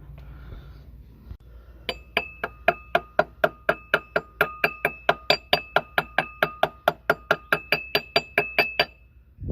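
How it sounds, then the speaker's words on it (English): Rapid, steady metallic hammer strikes on a part of a Volkswagen Mk4 1.8T engine during timing belt and water pump work, about three per second, sharp and close, in an even rhythm for several seconds. "hit it with a hammer"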